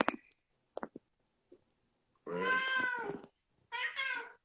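A cat meows, with a couple of drawn-out, fairly clear calls after a few short chirps and knocks, close by in a quiet room.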